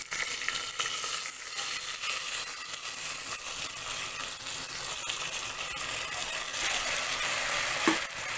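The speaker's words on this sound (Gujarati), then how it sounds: "પછી આપણે જે ધોઈને રાખેલા હતા ફણગાવેલા મગ તે ઉમેરી દઈશું" Sprouted moong hits hot oil spiced with hing and sizzles steadily, and a spoon stirs and scrapes through it with a soft clink near the end. The frying sound is close and continuous.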